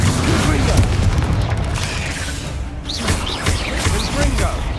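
Fiery Confringo blast spells going off in Hogwarts Legacy, deep booming bursts with crackling fire amid a busy game soundscape, with a character's voice speaking over much of it.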